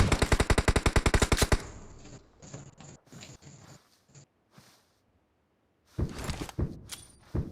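Gunfire in the PUBG battle-royale game on the Sanhok map: a rapid automatic burst of about a dozen sharp shots opens, then scattered fainter shots trail off, and a second loud volley breaks out near the end.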